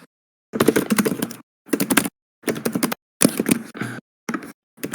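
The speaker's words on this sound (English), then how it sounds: "He's typing something." Fingers type on a computer keyboard in quick bursts of clicky keystrokes, several flurries separated by short pauses, close and crisp with no talking.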